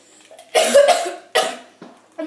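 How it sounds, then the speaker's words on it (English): A person with a sore throat coughs in a few sharp, loud bursts up close, two strong coughs followed by fainter short ones, with no talking. "So when I cough, it really hurts."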